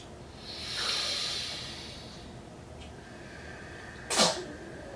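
A single sharp sneeze bursts out near the end, after a soft breathy hiss earlier; otherwise quiet room tone.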